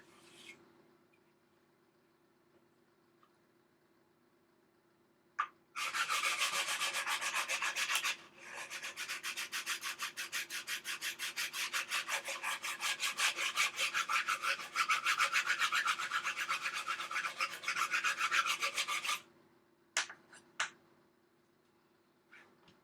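Rapid back-and-forth rasping of sandpaper on a wooden sanding block over a model ship hull, close and steady for about fourteen seconds, with brief quiet pauses and a few knocks at the start and end.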